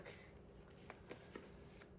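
A Cardfight Vanguard card deck shuffled by hand, a steady papery rustle with a few faint taps, very quiet and close, with nobody speaking.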